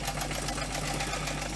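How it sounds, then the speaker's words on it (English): A 38-year-old home sewing machine stitching steadily, its motor whirring in an even, continuous run close by with a fine rapid needle rhythm and no pauses. "this is quite therapeutic on a sewing machine"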